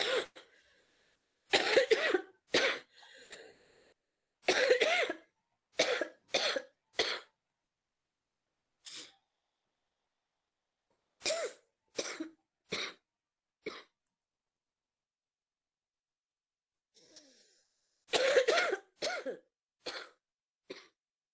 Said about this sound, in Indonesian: maaf ya Ibu batuk